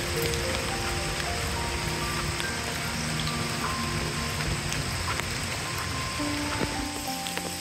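Monsoon rain falls steadily at a campground near Bhairav Kund, a dense, even hiss of drops on surfaces that continues without pause and with no voices.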